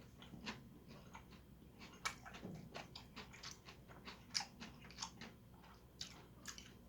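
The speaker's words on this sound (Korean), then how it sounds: "탕수육을 한번 집어 먹어볼게요" Close, wet chewing and soft crunching bites of fried sweet and sour pork, repeated in an irregular rhythm with no talking.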